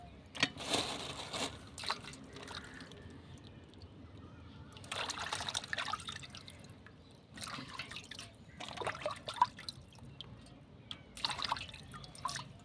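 Faint, intermittent splashes and drips of water while rock fish are rinsed by hand, coming in short clustered bursts separated by quiet stretches.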